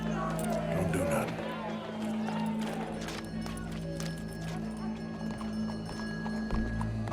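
Horse hooves clip-clop steadily through a busy Red Dead Redemption 2 scene, sitting under a layered bed of crowd murmur, music and game ambience, with voices talking over parts of it.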